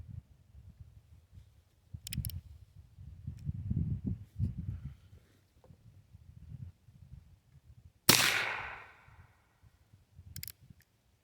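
A single sharp, loud report from a Heritage Rough Rider .22 revolver fired outdoors at a target on a homemade stand, with a decaying tail after the shot amid quieter low rumble and handling noise.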